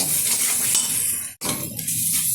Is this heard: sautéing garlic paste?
yes